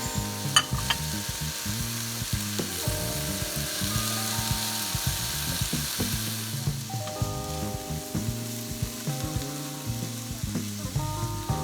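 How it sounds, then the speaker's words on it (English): Onion and garlic sauté in a tablespoon of olive oil for shrimp fried rice, a continuous close sizzle with a steady frying crackle under a tonal backing of music, with no voices. "Add 1 tablespoon of olive oil and then add the onion and garlic and saute for about 2 minutes."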